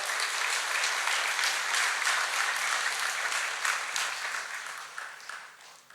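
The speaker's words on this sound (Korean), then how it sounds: "나오실 때 뜨거운 박수 부탁드립니다." A church congregation gives warm applause as a woman comes forward to share her testimony, dense clapping that holds steady and then gradually fades toward the end.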